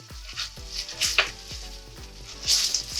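Ginger and green chili paste sizzles lightly in a pan while a utensil scrapes and taps in a regular rhythm, close up, with a soft steady frying hiss underneath and no voices.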